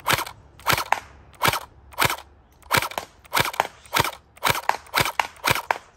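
Gel blaster toy gun fired at a target about 25 feet away, a rapid series of about thirteen sharp, loud, snappy shots in an uneven rhythm, close by.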